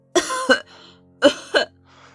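Two harsh coughing bursts, each a pair of quick, throaty barks, from a woman reading aloud a Chekhov story in an audiobook, close and clear with brief quiet gaps between them.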